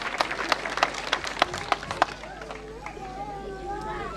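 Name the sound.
audience applause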